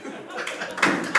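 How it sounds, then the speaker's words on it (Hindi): Brief scattered clapping from an audience at a Hindi comedy open mic, a few sharp hand claps at close range rising under someone speaking. "ये ओयो रूम पे कौन ताली बजा रहा है?"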